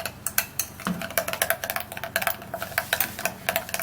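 A mixture being stirred in a bowl, a quick run of light clicking taps from a utensil against the sides, close and rhythmic.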